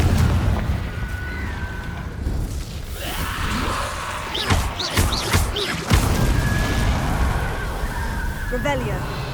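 Confringo spell blasts in Hogwarts Legacy burst in a cluster of booming, crackling explosions amid game effects, with someone talking over the action.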